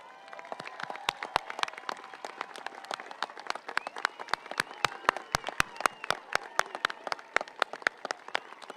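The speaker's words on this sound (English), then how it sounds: "give a huge round of applause to the teachers and staff members that got us here today" Steady applause from a high school graduation crowd, many hands clapping at a brisk, uneven pace for several seconds with no voices over it.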